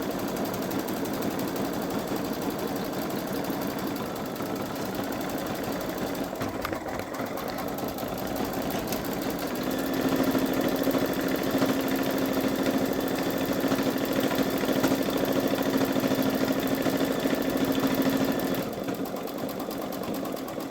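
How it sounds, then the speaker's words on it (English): A Babylock Solaris (Vision) sewing machine runs a satin stitch on an in-the-hoop embroidered zippered bag, a continuous mechanical hum and rapid needle whir that steps up to a louder, higher-pitched pace midway, then eases back. "Usually when it does a satin stitch, it just goes at the speed the machine requires too"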